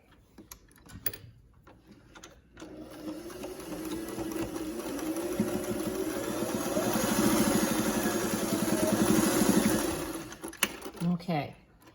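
A sewing machine back stitching a fabric mask casing seam, with a rapid mechanical whir that builds and holds steady for several seconds. Short handling clicks come before and after, close and moderately quiet.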